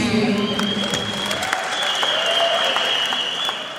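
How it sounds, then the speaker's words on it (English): Spectators at the opening ceremony of the Zone VI men's and women's volleyball championships in Limpopo break into broad applause, a full crowd clapping steadily, with a thin high tone running underneath for most of it. "Can we give her a huge round of applause?"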